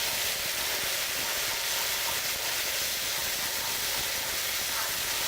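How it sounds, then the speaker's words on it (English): A continuous, even hiss of stock sizzling in a hot pan of prawn risotto, loud and close, with no pauses or voices. "You hear it sizzle."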